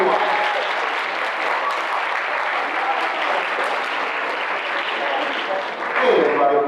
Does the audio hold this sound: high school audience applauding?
yes